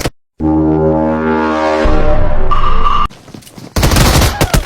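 Shotgun fire in a video game, heard as a loud low blast with a long droning tone and then a couple of sharp, close bursts separated by brief quieter gaps.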